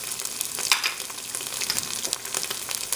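Cayenne, cumin powder and turmeric fry in hot oil in a pan for curried black chickpeas, giving a close, steady crackling sizzle with faint stirring and no speech.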